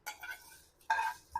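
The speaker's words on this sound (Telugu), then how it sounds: "ఆ పోపు కలిపేసుకుందామండి పప్పులో" A spoon stirs a tempering into cucumber dal (dosakaya pappu) in a pot, giving short scraping, clinking strokes in a few bursts, close and fairly quiet.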